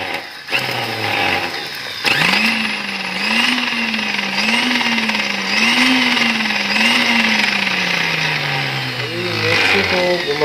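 An electric mixer grinder whirs loudly as it grinds rose petals into powder, its motor pitch wavering and rising and falling in surges, with a short stop and restart near the beginning and talk heard under it.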